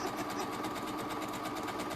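A domestic sewing machine stitches a fabric bag lining around three sides, its motor whirring steadily and close by with a fast, even stitching texture.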